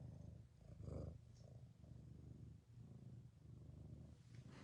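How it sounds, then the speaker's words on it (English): A cat purrs steadily and close by, a low continuous rumble with a brief louder swell near the start. "Can you hear her purring?"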